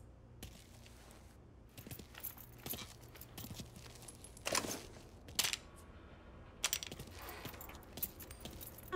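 Keys jangling in Mafia 3, quiet metallic clinks and rattles scattered across the clip in a few short clusters, close but faint against a low background.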